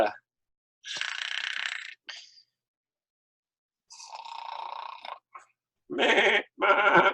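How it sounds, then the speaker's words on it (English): Goats bleat on a hillside in several separate drawn-out cries with short silences between them. The last two bleats are louder and more nasal. "the goats are up there on the hillside."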